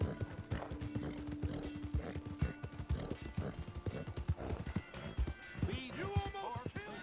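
A horse gallops at full speed in the video game Red Dead Redemption 2, with a fast, continuous drumming of hooves mixed with game music and ambient effects.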